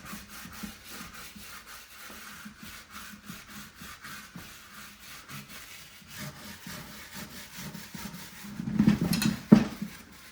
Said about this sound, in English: Using a bristle, it helps get into all the little nooks and crannies.